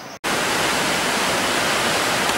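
Queen Mary Falls waterfall in Queensland roars as a loud, steady broadband rush, heard close after a brief cut, with no voices.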